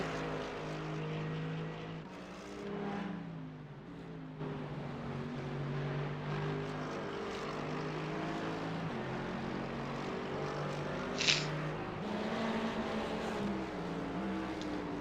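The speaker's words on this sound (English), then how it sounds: "Had to fix that so you guys can hear the cars." Race cars in a sim racing video game rallycross event at Daytona, a steady layered engine drone with shifting pitch and a brief sharp whine near the end, continuous with no talk.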